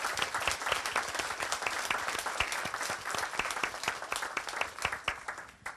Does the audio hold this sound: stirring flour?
no